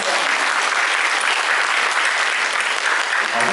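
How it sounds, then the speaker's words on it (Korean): Enthusiastic applause fills a church seminar hall as the congregation welcomes a speaker, a dense steady clatter of many hands held at an even, loud level throughout. "힘찬 박수로 한번 환영해 주시고"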